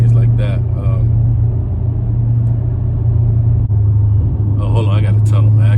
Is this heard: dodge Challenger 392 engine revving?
yes